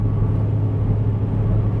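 A BMW X5 M engine pulls hard under acceleration: a loud, steady, deep rumble and whir from inside the car, with no speech.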